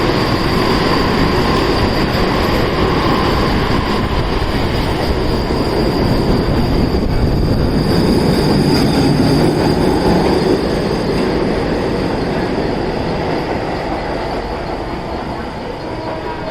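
A train rumbles steadily past close by, wheels clattering and squealing on the rails, loud throughout and easing slightly at the end.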